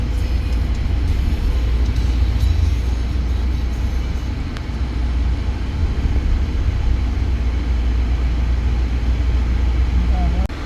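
Street traffic in Mulhouse, France, on a busy Saturday near a market: a steady, loud rumble of passing vehicles and engine drone filling the scene without pause, with faint background voices mixed in.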